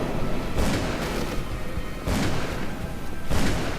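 Gunfire in the video game Call of Cthulhu: three heavy booming shots spaced about 1.5 seconds apart over a constant rumbling background, loud and close.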